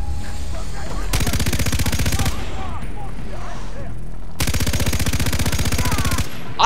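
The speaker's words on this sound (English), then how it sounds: "I'm just firing randomly! I don't know who I'm shooting at!" Gunfire in Far Cry 3 comes as two long, loud bursts of rapid automatic fire separated by a short lull, sharp and close.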